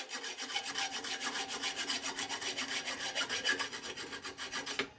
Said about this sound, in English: Now we got a notch started, and then we can start cutting right on through.